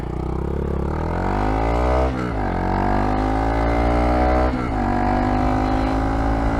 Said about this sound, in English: So the thing I really like about this exhaust so far is it's only loud under load.